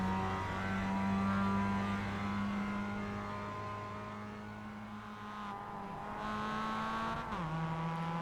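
A Mazda MX-5 race car accelerating uphill at Laguna Seca in the iRacing simulator, its engine droning steadily and close, pitch climbing through the gears with a quick shift near the end.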